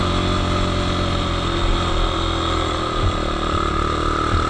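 A Zhongshen 200cc motard climbs a steep mountain road in first gear, its engine droning loud and steady throughout with a constant high-revving buzz and no breaks.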